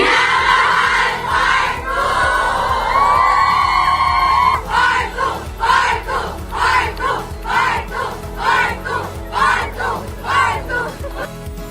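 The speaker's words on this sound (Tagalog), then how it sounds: "At ang sigaw ng fans" Cinema crowd of fans at a Minamahal screening screaming and cheering loudly, a sustained roar that breaks into repeated rhythmic bursts of shrieks and yells.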